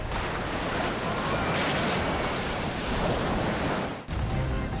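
Ocean swells and breaking waves surge around a 27-foot boat off Queensland, Australia: a dense, continuous roar of surf and wind, loud and unbroken apart from a brief dip near the end.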